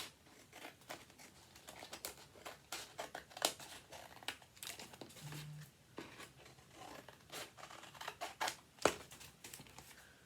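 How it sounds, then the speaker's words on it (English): Scissors snipping away the excess paper around a children's art craft, a run of short crisp cuts and crinkling sheets close by, fairly quiet and without any talk. "turn it over and you can cut off the extra pieces like this"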